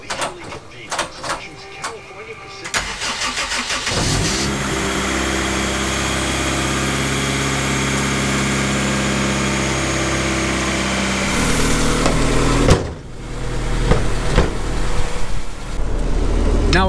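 A car engine with a blown transmission cranks and catches, then settles into a steady loud idle for several seconds before revving and shutting off, heard up close with no talking over it.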